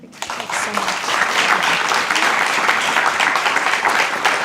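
Applause for a graduating guide dog class at a Guide Dogs for the Blind graduation ceremony, a steady crowd clapping that swells quickly and holds at full strength throughout.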